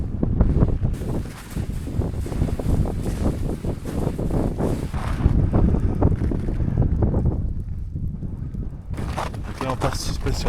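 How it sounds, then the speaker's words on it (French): Steady wind buffeting the microphone at the summit of Mount Etna, a rough continuous roar with gusts, under a low rumble and occasional talk. "Le vent, c'est le vent en fait qui rafraîchit à mort par effet de convection."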